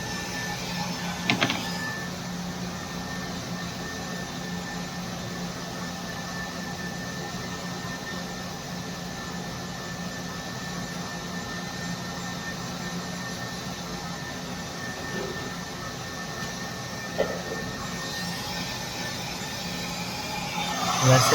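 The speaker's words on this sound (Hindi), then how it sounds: "मैं बस जल्दी से बाल ड्राई करूँगा और निकलूँगा" A hair dryer blows on hair in a continuous, even whoosh lasting the whole stretch, steady and fairly close, with a couple of faint knocks along the way.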